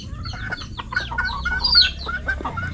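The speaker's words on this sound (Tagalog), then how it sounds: "maraming manok ang Kuya Brian dito" Several chickens cluck and murmur nearby, with a brief higher squawk over a low background rumble.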